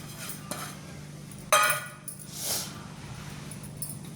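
Sliced onion is mixed by hand with coriander, ajwain, dried chili, turmeric, salt and red chili powder for onion bhaji. A few scattered scrapes and rustles sound quiet and close against a hushed room.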